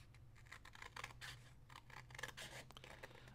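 Scissors snipping through paper while crafting Christmas gifts from paper bags and envelopes, a quiet irregular series of close crisp cuts and rustles with no talking.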